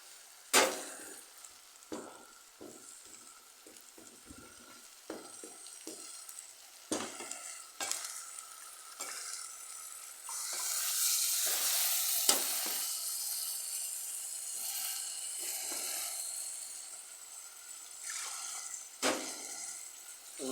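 Papaya curry with chilli, turmeric and ground paste being stirred in a pan: steady sizzling and frying with repeated scraping stirs and clinks of the spoon against the pan, close and alone.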